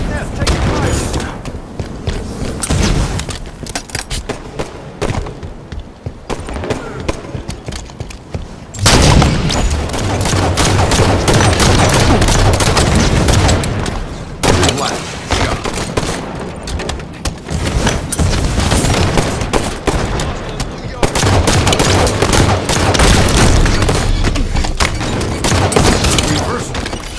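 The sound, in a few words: gunfire in a shooter video game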